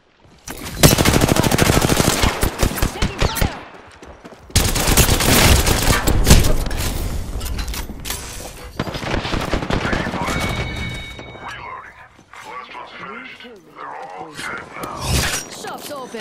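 Automatic gunfire rattles in rapid loud bursts in the shooter game Apex Legends, several long volleys separated by brief pauses, with quieter shots and game sounds toward the end and a voice calling out.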